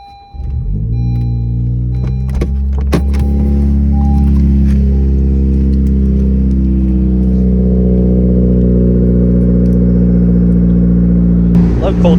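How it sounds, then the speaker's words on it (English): A 2017 Honda Civic Si engine cold-starts after a brief quiet moment, catching into a loud, steady high idle with strong low harmonics that holds for the rest of the clip, with faint clicks early on. "Love cold starts"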